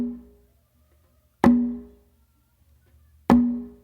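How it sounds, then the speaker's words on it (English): Two sharp, resonant combined strokes about two seconds apart: a closed slap on a conga played together with an open tone on a tumba. Each stroke rings with a warm low drum tone that decays quickly, with no talking. "what you're going to do at the same time is you're going to do a close slap on the conga with your dominant hand,"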